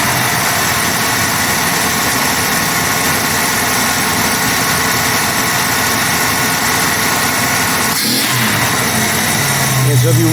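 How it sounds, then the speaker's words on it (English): A 1982 AMC Concord engine with a suspected clogged catalytic converter runs loud and close, holding a steady drone that shifts near the end, with a voice speaking over it. "So if you rev it high enough, it goes down."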